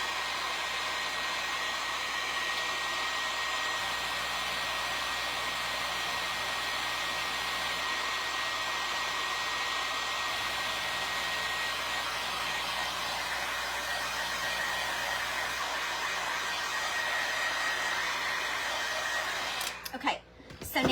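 A hair dryer blows continuously on freshly painted DIY wooden pieces, a loud steady whooshing hum that runs unbroken for about twenty seconds before cutting off at the end.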